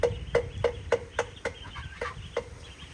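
Chickens on a farm cluck in a steady series of short, sharp calls, about eight evenly spaced clucks, close and fairly loud as they peck at fallen ripe bananas.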